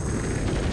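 A video game explosion in Overblood 2 bursts as a dense, steady roar of low rumble that fills the whole brief moment at even loudness.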